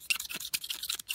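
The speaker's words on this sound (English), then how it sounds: "you let the razor blade float between your fingers so that on the pull stroke, it leans this way" Razor blade scraped by hand along a screwdriver to take off paint, short rasping strokes in a quick back-and-forth rhythm, close and fairly faint.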